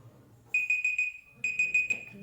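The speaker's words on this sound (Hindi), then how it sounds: "Timer done." Electronic countdown timer alarm from a history quiz lesson beeping in two quick bursts of rapid high-pitched chirps, clear and close with a short pause between bursts, no talk over it.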